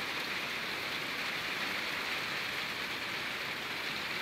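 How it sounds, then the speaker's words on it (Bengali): Steady rain pours down, a dense, even hiss of drops hitting surfaces with no letup. "তার উপরে আবার বৃষ্টি, বৃষ্টি শুরু হয়েছে"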